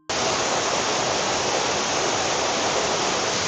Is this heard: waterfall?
yes